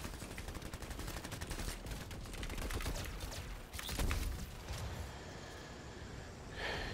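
Rapid machine pistol fire in the video game Anthem, long continuous bursts of fast repeating shots at moderate volume, easing off toward the end with a brief softer burst.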